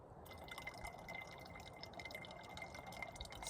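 Trail water trickling and dripping beside the Rio Chama on the Continental Divide Trail, about like a leaky faucet, a steady faint patter with fine splashes throughout and no voices.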